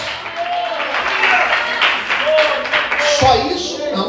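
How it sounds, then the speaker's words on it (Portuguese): A church congregation applauds during a Portuguese-language sermon, a broad wash of clapping that swells and ebbs under and around a preacher's voice. "Em nome de Jesus, você pode aplaudir e exaltar o Senhor."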